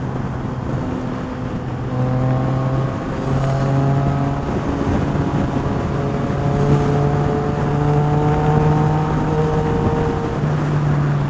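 Yamaha XSR900 motorcycle engine pulling hard under acceleration, a loud continuous drone with rising and stepping harmonic tones as it climbs through the revs, steady and close with no talking.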